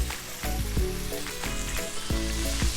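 Butter sizzling in a hot pan with a steady, dense frying hiss throughout, broken by a few soft utensil clinks and scrapes, close and moderately loud.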